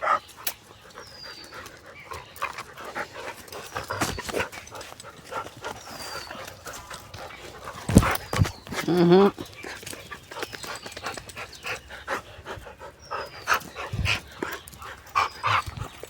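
A dog pants and gives short, scattered barks and whimpers outdoors on a farm, fairly faint with gaps between sounds, while people talk nearby.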